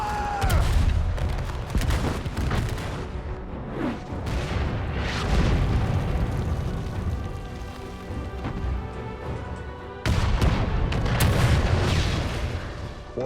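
Heavy artillery fire in a war movie battle scene, a series of loud deep booms and crashing blasts rolling one after another, with a brief lull before another close burst of explosions.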